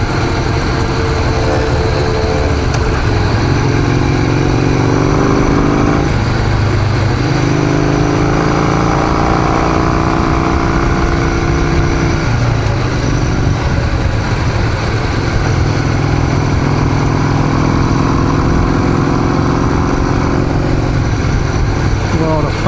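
A Harley Davidson XR883 custom motorcycle engine runs loud and close, with a steady rumbling drone that rises and falls through several revs, while a rider talks over it.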